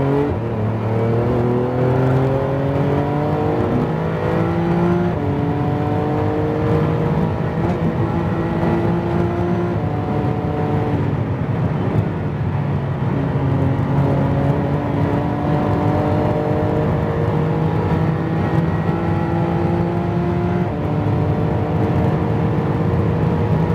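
GT3 race car at full throttle on a flat-out Nürburgring lap, engine screaming loud and close as it climbs through the gears, each upshift dropping the pitch before it rises again, no voices.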